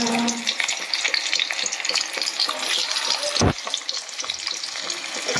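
Lightly steamed potato going into a hot frying pan with onion, giving a loud, dense, continuous sizzle and a single sharp knock partway through.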